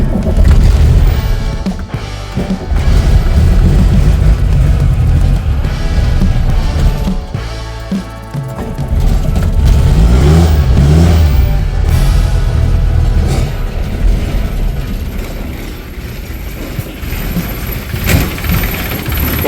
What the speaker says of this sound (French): que le moteur il tourne bien